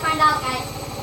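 A Hoover Wizard washer dryer spins a single wet towel at high speed, around 1200 RPM, giving a loud, steady rumble with a fast rhythmic thumping pulse and a whining hum.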